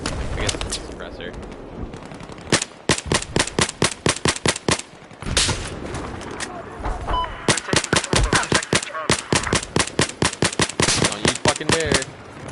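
Suppressed gunfire in the video game Battlefield 4, with rapid bursts of muffled shots repeating across the whole stretch, close and fairly loud, and a voice talking at times among the firing.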